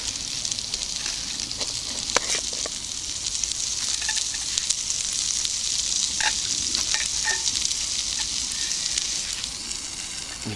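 Coltsfoot flowers fry in a pan outdoors in the woods, giving a steady, close sizzle with occasional crackles and pops throughout and no talking.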